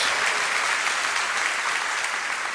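A church congregation bursts into dense, sustained applause, many hands clapping together evenly and loudly throughout with no voices rising above it.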